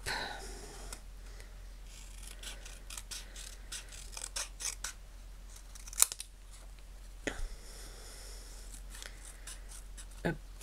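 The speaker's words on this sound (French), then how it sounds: "On va donc couper notre tamponnage." Scissors cutting through stamped paper for a bookmark craft project: a series of close, crisp snips and slicing strokes in irregular bursts, separated by quieter handling of the paper, with no talking.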